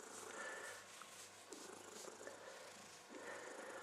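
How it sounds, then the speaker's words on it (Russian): A stray cat in Murom purrs loudly and close up, a continuous rumbling purr with regular breathing cycles that swell and ease roughly every second and a half, with no voices. "Зато громко мурлыкает."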